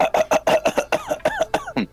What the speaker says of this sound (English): Did Sans just start coughing up a lung?